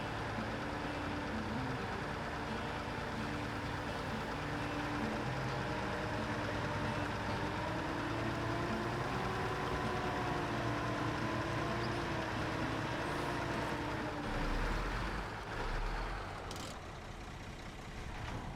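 A heavy truck engine idles in SnowRunner, a low steady diesel rumble with a droning hum that holds throughout, briefly shifting near the end.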